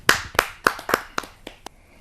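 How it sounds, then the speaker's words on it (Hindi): A few audience members at a Hindi kavi sammelan clap to welcome a poet, about seven sharp, sparse claps that thin out and grow fainter. "जोरदार तालियों से।"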